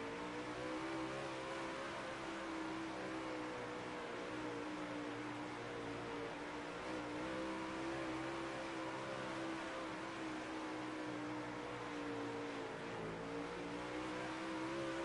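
Sprint car engine in the World of Outlaws racing game, a steady loud drone with continuous revving and shifting pitch throughout, no voices over it.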